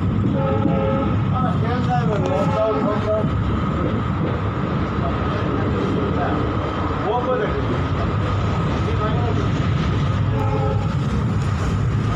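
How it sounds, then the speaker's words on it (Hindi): A moving passenger train on the Mariani to Sonari route in Assam, with steady rolling rumble and wheel clatter throughout and several horn blasts sounding at intervals, while people talk nearby inside the carriage. "ट्रेन अभी छोड़ दिया, अभी मैं ट्रेन में"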